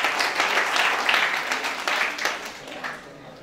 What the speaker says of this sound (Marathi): त्या मुलासाठी आपण पहिल्यांदा टाळ्या वाजवूया